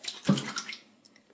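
Cool tap water runs and splashes onto hands at a sink, a brief close patter that tapers off quickly into quiet.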